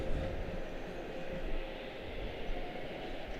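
A Boeing 787-9 Dreamliner at Charlotte Douglas International Airport gives off a steady, faint, distant jet roar with a low rumble and no clear peaks.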